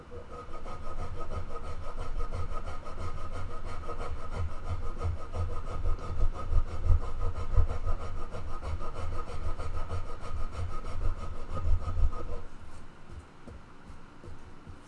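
Steady, continuous scraping and rubbing as sandpaper works over a wood finish, close up, with a low mechanical hum underneath; the rasping eases off near the end.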